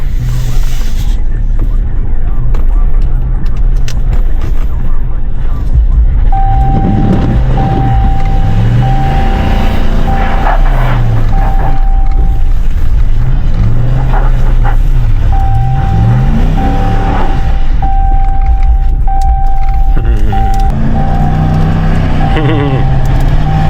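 Ram 1500 pickup truck driving and drifting in snow during a snowstorm, its engine rising and falling in repeated sweeping revs under a steady drone, with an intermittent beeping chime and people talking over it.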